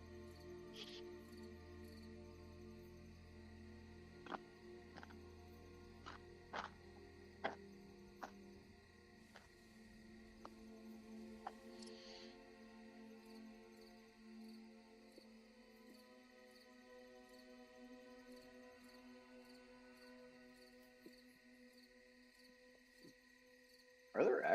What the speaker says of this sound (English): Are there actual crickets as like the background sound effects?